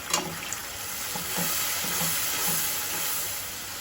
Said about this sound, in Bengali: টমেটোটা সাথে দিয়ে দিব হলুদ মরিচ দলে জিরা দিয়ে আমি ভালোভাবে কষিয়ে নিই